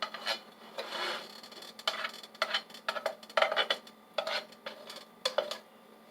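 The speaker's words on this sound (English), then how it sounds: "I only use a little tip of butter. Spread it around in my pan." A small pat of butter spread around a pan with a utensil, close scraping and rubbing strokes in irregular bursts with brief pauses between, no voices.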